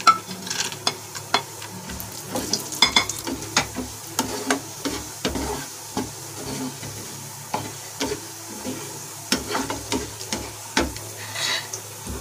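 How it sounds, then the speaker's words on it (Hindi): Cashews roast in a pan for dhania panjiri, heard as a soft sizzle under repeated scraping and stirring knocks of a spoon against the pan, at close range. "काजू भी हमारे रोस्ट हो चुके हैं।"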